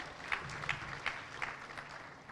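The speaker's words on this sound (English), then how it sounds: "One more round of applause for Kushal." Faint, distant applause rises from an audience at the Kenya Water & Sanitation International Conference & Exhibition 2023, giving a round of applause for a speaker. Several slightly stronger claps stand out in the brief, soft crowd clapping.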